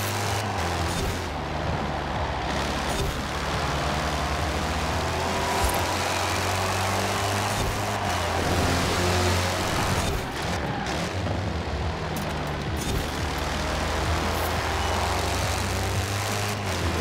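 A car accelerates flat-out on a race track, its engine a loud, continuous roar that holds steady throughout with slight surges and no voices.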